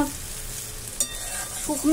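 Pumpkin pieces and fish roe frying in a pan, a continuous close sizzle with a few brief stirring scrapes of a utensil, no talking.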